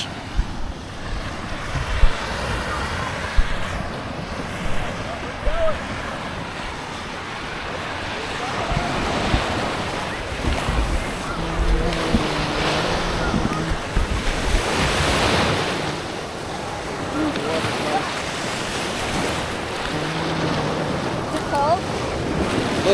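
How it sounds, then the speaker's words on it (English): Surf breaking and washing along a Lake Michigan-style beach at Saugatuck, with steady gusty wind buffeting the microphone throughout; voices talk faintly now and then over the continuous roar. "Let's walk on the beach. We're gonna walk down the beach."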